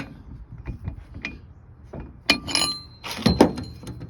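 A truck wheel hub with 5/8 studs, on a Dana 44 axle, is spun by hand after the studs are tightened, giving light mechanical whirring with a few clunks and metallic rattles, close and intermittent.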